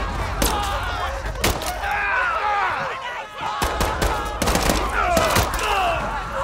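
Gunfire in the Call of Duty: Modern Warfare III campaign, a hijacking scene aboard a plane, with repeated sharp shots and bursts over busy game noise and some overlapping voice.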